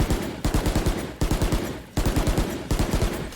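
A Killjoy nanoswarm grenade goes off on Bind's B site in Valorant, giving loud, evenly spaced clusters of sharp rattling pops that repeat about every three quarters of a second, close up with no voices.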